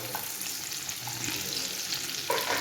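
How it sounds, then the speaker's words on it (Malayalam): Ginger stirred into pork frying in a pan, a steady close sizzle with spoon scrapes and stirring clatter, no voices. "ഇഞ്ചി, ചേർത്തൊന്ന് ഇളക്കാം"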